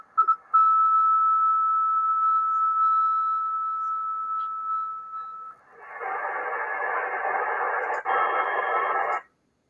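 A loud, steady radio carrier tone holds one pitch for about five seconds, then gives way to a loud band of hissy noise that cuts off abruptly. No one speaks.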